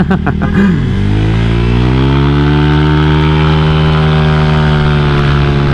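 A motorcycle with a BRT 63mm engine revs and accelerates, its loud, close engine note climbing in pitch after a few short blips, then holding a strong steady drone.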